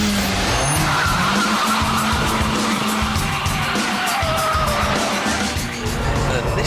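A Vauxhall Corsa VXR lapping a race track, its engine droning loud and steady throughout with a broad rushing roar and some tyre noise, no talk over it.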